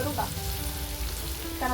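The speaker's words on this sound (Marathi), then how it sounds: "मच्छी मस्तपैकी फ्राय झालेली आहे" Fish fries in a pan with a continuous soft sizzling hiss throughout the short stretch, fairly close, with a faint tonal hum underneath and no talking.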